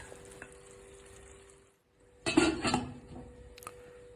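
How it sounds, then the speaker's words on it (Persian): Sauce seasoned with rosemary, curry powder, garlic powder and salt is added to chicken in a pot, with a brief burst of sizzling and stirring, clinking utensils against the pot, after a quiet lead-in. "خب حالا سسه رو اضافه میکنیم به مرغ"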